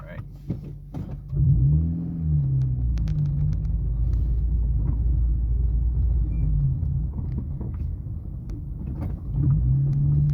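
A Honda Civic's engine runs steadily inside the car, a low continuous rumble with faint rising hum tones, heard from within the cabin without talk.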